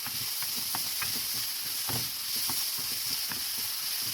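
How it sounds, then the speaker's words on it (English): Bacon frying in a pan for an Italian-style ragu, a steady loud hiss and crackle with scattered small pops throughout and no talk. "I'm going to just fry this off a little."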